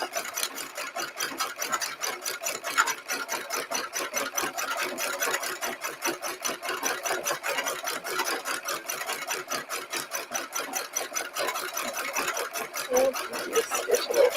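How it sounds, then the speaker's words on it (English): A sewing machine stitches rolled hems with a fast, even rhythmic chatter of needle strokes, close and continuous throughout. "You're stitching away."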